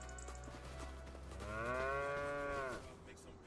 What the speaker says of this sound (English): We have cows and they are working.